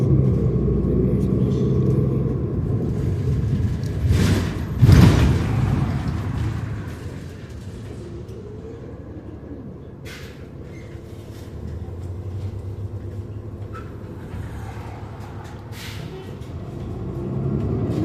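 A Saint Albert train passing, a deep steady rumble of rolling stock with a brief louder burst partway through, continuing under intermittent voices nearby.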